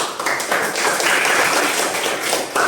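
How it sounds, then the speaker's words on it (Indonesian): A classroom of students claps hands together in a brief, busy burst of applause, fairly close and without talk. "Kita tepuk tangan semua."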